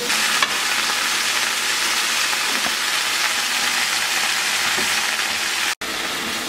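Food browning in a hot frying pan, giving a loud, dense and steady sizzle with small crackles, with a brief dropout near the end.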